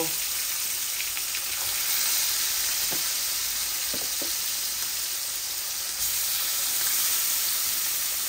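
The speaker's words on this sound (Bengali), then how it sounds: "এই মাছগুলো আমি ভাজি করতে বসাই দিচ্ছি" Rohu fish fry in hot oil in a pan with a steady, loud sizzle and hiss throughout, broken only by a few faint clicks.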